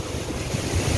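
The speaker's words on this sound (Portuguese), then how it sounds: "o volume da água é muito grande. Então a cachoeira tá sempre carregada assim." A full waterfall in Tibagi, swollen by the rainy season, roars as a dense, constant rush of water close by, with wind buffeting the microphone and no talk.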